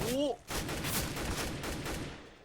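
A short burst of electronic-sounding gunfire from Counter-Strike: Global Offensive crackles and echoes for a couple of seconds, following a brief rising tone at the start.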